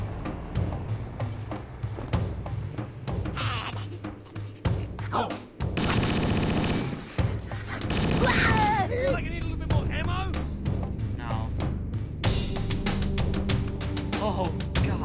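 Gunfire from the Halo video game: rapid bursts of automatic weapon fire and explosions crackle and boom throughout, mixed with shouting soldier voices and game chatter, loud and dense.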